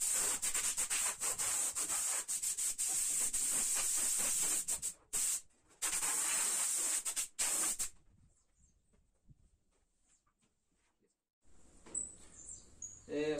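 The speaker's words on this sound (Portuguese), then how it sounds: "uma camada de verniz mais diluído, só para acabamento mesmo e puxar um brilho" A common, well-worn spray gun lays a thin coat of diluted varnish as a finishing layer on an industrial-style table with organic edges. Loud, steady hissing bursts run for several seconds with brief breaks, then fall silent before a quieter spray resumes.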